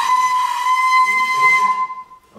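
A loud, steady buzzing horn-like tone made by blowing a raspberry into a tube, held for about two seconds before fading out.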